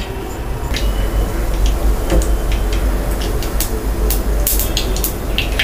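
Mustard seeds spluttering in hot sesame oil, scattered sharp pops and crackles over a steady frying hiss, close and loud with no talking.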